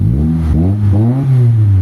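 Honda Civic ESi engine, previously suffering low power and a dropping idle with the air conditioning on, revs up in a loud, close, rising whine that dips and climbs again, steady and unmasked by talk.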